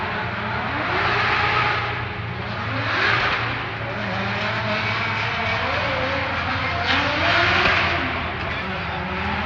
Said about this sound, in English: I can hear the other car getting ready to come down into the parking